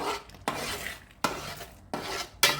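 A spoon scrapes through thick yam payasam as crushed cardamom is stirred in for an Onam pradhaman, four distinct rhythmic strokes against the pot, each a brief rasping swish close by.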